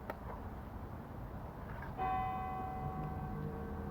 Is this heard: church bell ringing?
yes